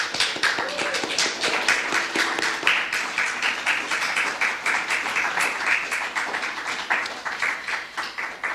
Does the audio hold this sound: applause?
yes